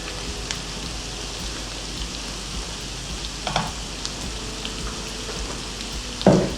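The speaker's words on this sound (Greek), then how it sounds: "Θα τα ανακατέψουμε έτσι να τσιγαριστούν όλα μαζί." Chicken livers and trahana sautéing in a pan, a steady soft sizzle with occasional stirring scrapes and a louder knock near the end, no talking.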